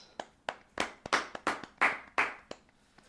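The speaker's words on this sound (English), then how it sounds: "Quick round of applause." A small group on a podcast gives a quick round of applause: about ten loose, uneven hand claps close to the mic, with no talking.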